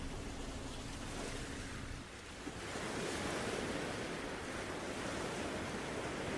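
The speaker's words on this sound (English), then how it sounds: "you see flecks of white as the waves curl over in the distance" Ocean surf breaking along the water's edge at night, a steady broadband wash of waves that swells louder after a brief dip, continuous and fairly close with no voices.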